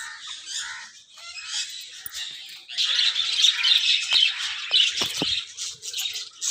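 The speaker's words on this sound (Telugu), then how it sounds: "వైట్ వెయిట్ కన్ను చిలకలు ఇవన్నీ ప్యారెట్స్" Parrots and white-eyed parakeets in an aviary at a wildlife park squawk and chirp in harsh, overlapping bursts that grow louder and busier partway through, close and alone without talk.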